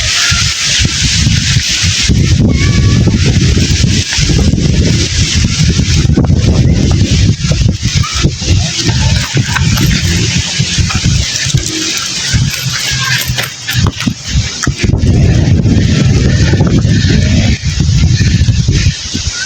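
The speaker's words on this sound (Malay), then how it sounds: "Kuat angin." Strong wind buffets the microphone in a loud, continuous broadband roar with gusty surges during a rainstorm near a parked car, steady throughout with only brief dips.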